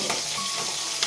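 Fish frying in a pan gives a steady close sizzle with faint crackles, alone and brief.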